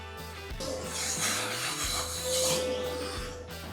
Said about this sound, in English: Start off with an 1/8 inch drill bit as a pilot hole, then move on to a 1 inch hole saw